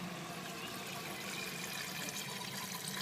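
Water pours steadily into a 3-liter container in a patio garden, a continuous soft splashing trickle heard close and quiet with no talking.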